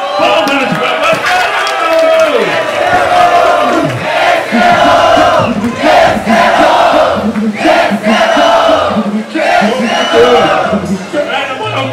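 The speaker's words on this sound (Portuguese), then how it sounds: "Palmas pra você!" A crowd at a rap battle erupts in loud, dense cheering, whooping and clapping, near and continuous, with shouted voices mixed through the roar.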